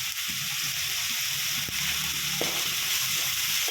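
Onions sizzle and fry in a pan for gongura curry, giving a steady hiss with a few soft stirring knocks, close and fairly loud, with no talking.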